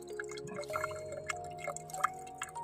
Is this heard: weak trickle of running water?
yes